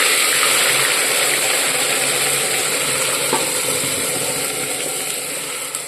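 Onion, cumin and whole spices frying in hot oil for a Gujarati chickpea curry, a dense, steady sizzle close up with faint stirring scrapes and no talking.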